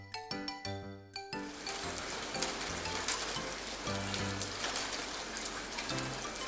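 Steady rain pours down on a rainy day, a dense hiss of drops on surfaces that continues throughout, with a few soft musical tones at the start and faintly underneath.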